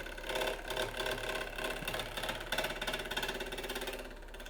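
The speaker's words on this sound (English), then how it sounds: "When you have this much airspace going by, you have to move your tool slowly and take small shavings." A wood lathe turns a maple burl platter with air spaces, the tool taking slow, small shavings; a steady mid-pitched whirring hum with a light rattling scrape runs continuously and fairly close, without talk.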